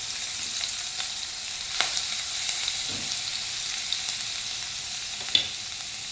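Garlic fries in hot oil in a pan on a gas stove, a steady moderate sizzle with a few soft stirring clicks and taps over it.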